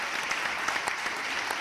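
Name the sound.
audience applause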